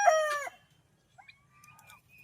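A rooster's crow cut off at the start, followed by quieter clucks and faint bird calls in the background.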